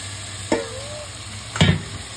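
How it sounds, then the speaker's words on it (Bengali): Mutton stir-fried with spices in a pan, a steady close sizzle broken by two distinct clunks of the stirring utensil, about a second apart. "এখন আমি এর মধ্যে মাংসগুলো দিয়ে দিব, তারপরে ভালোভাবে কষিয়ে নিব।"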